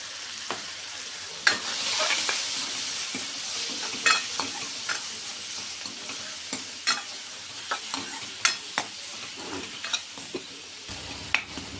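Tomatoes fry in a pan with turmeric, red chili powder and salt for a masoor dal dish, giving a steady close sizzle broken by regular clinks and scrapes of a spoon stirring.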